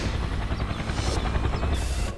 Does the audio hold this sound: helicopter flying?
yes